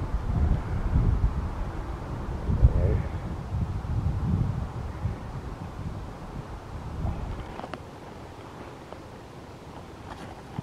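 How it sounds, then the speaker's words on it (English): Wind gusting across a snowy Colorado hillside during a hike, a broad low rumble buffeting the microphone for most of the stretch before easing off. "Oh, of course, now we have wind."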